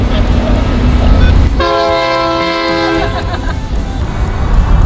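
A train rumbles loudly past close by, its horn sounding a long multi-tone blast over the heavy rolling roar of the cars.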